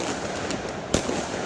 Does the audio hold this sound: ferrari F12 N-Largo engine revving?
no